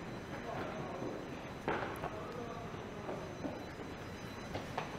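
A Line 4 subway train with shorter cars than other lines, heard as a steady broadband rumble filling the station or car, with faint clanks and brief bursts on top and some indistinct talk nearby.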